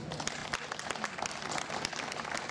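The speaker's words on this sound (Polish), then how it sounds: "Wielkie brawa." A crowd applauds steadily and densely at a harvest festival (dożynki) in Skrzyszów commune in Poland, with the clapping sustained throughout.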